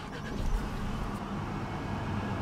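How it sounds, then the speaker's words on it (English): A 2018 Audi A5 with a 2.0-liter turbocharged four-cylinder engine starting by push button and settling into a low, steady idle rumble, heard close and moderately quiet with no talk. "What you're hearing there is a 2-liter turbocharged 4-cylinder"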